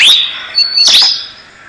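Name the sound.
bird imitating the call of another species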